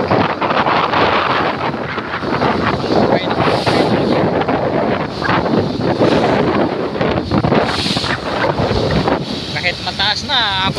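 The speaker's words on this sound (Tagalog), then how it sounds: "Maski barko tagilid pag tinamaan itong mga alon na ito." Strong southwest monsoon (habagat) wind roars across the microphone at the shore in Isabel, Leyte, with large waves crashing and spraying underneath, a loud, continuous, gusty rush throughout.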